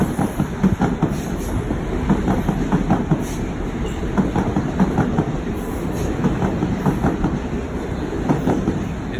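A Metro-North M7 train passing near a tunnel portal, continuous rumbling with rhythmic clickety-clack of wheels over rail joints, loud and close throughout with no talking.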